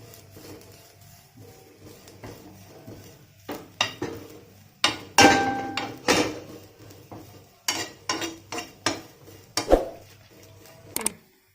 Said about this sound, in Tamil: கொஞ்சமா ஏலக்காய் தூள், அதோட நல்லா மிக்ஸ் பண்ணிக்கலாம்.